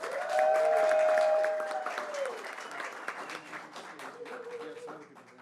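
An audience applauds a staff member being recognized at a school board meeting, with steady clapping under a voice's cheer at the start and a few voices mixed in as the applause tapers.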